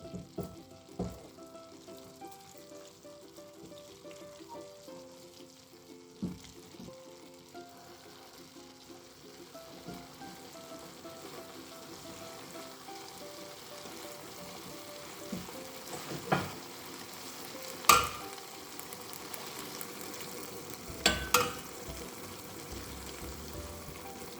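Leeks and pancetta cook in a pan for pasta, giving a faint, steady sizzle with occasional louder clinks and scrapes of stirring toward the end.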